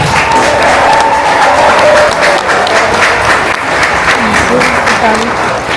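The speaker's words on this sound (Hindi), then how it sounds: "let's give a big round of applause to the newly married couple." Wedding guests applaud a newly married couple at a Pakistani wedding reception in Canada, with loud, steady clapping across the whole stretch, some cheering and talk mixed in.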